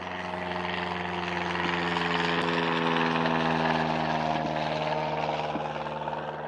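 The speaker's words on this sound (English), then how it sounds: "We've got a lot of planes that are heading out today." Aircraft passing overhead outdoors, a loud steady engine drone that swells and holds with a low droning hum throughout, no talking.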